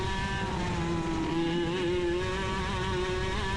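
A racing kart's engine drones at a steady high pitch while racing on a track, loud and close with a slight wavering in tone and no talking.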